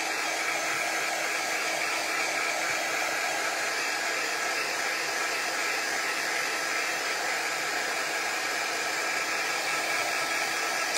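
A hair dryer blows steadily and loudly for the whole stretch, drying a chalk craft project, a constant whooshing roar with no break and no voices.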